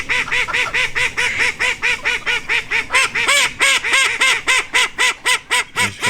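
Near-adult ducklings quacking and honking loudly up close, a steady run of rapid repeated calls from several birds overlapping without pause.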